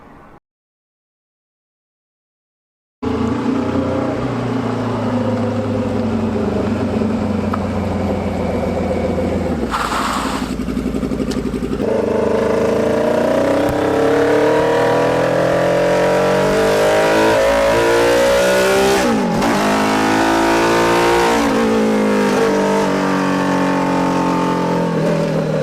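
A Hayabusa-engined Mini Citicar pulls away and accelerates under a loud, close engine whose pitch climbs and falls through several revs, after a short silent start, lacking power and cutting fuel.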